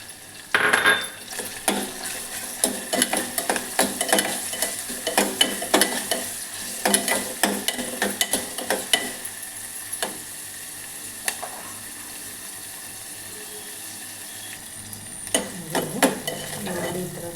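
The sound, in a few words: onions frying and being stirred in a pan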